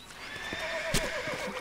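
A horse in the Red Dead Redemption video game gives a loud, shrill whinny over a couple of hoof clops, close and clear.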